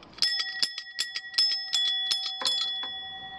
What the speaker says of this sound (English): Can you think of what type of vehicle has this type of bell on it?